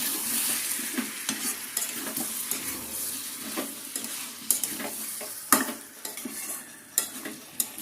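Spice masala being stir-fried in a pan, with a steady close sizzle broken by repeated scraping and clinking of a spoon against the metal. No one speaks.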